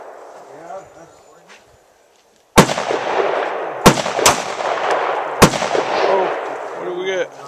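Four sharp 9mm pistol shots from Brown Bear ammunition, fired by a 10-year-old, crack out at irregular intervals, loud and close, each with a brief ringing tail, while people talk quietly in the background.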